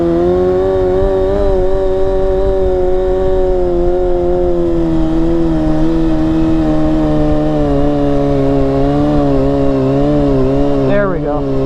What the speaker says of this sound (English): This is like probably day 3 or 4 learning the handbrake on this Kawasaki 636 stunt bike.